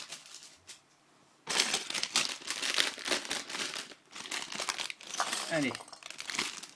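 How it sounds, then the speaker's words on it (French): Plastic bags of LEGO pieces are torn open and crinkled, crackly rustling bursts close up with pauses between, as someone speaks briefly. "je vais ouvrir les pièces. Les sachets de pièces, plutôt."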